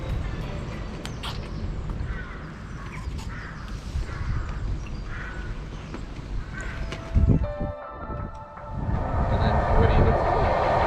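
A train rumbles past at a railway station with rolling mechanical noise and metallic squeals, growing louder toward the end, while faint voices and birds sound in the background.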